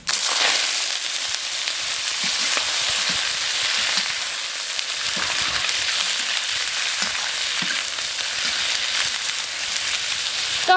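Pork for braised red-cooked pork hits a hot wok of oil and fries with a loud, steady, close sizzle and crackle that holds unbroken throughout, with no voices.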